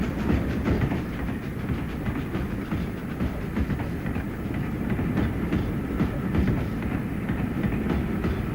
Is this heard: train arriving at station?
yes